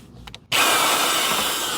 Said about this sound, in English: Screw in some mounting hardware.